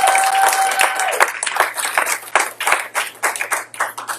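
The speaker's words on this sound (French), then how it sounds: "Est-ce que tu peux acclamer le Seigneur ce matin?" A church congregation claps together at a Sunday service, a loud, dense run of applause that breaks into rhythmic hand claps while a voice briefly carries over the start.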